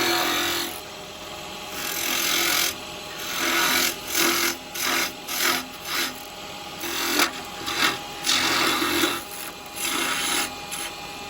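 A carbide lathe tool shaves a spinning wooden top on a woodturning lathe, giving a continuous close scraping hiss that swells and dips in repeated passes over the spinning wood, with no talking.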